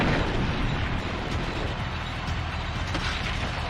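A tank firing explosive shells in GoldenEye 007 remastered for XBLA produces a sustained, rumbling blast that roars on steadily and moderately loud, with no voices over it.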